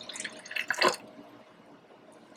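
Cooled liquid poured into a homemade potion mixture in a kitchen gives a short burst of trickling and dripping near the start, then fades to quiet room tone with a faint splash at the end.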